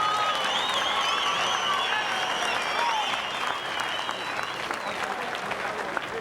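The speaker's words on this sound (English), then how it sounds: "let's have a warm round of applause for these two athletes" Crowd at a pro boxing event applauding two boxers after a close bout, sustained clapping with scattered cheers and whistles while an announcer's voice carries over the arena.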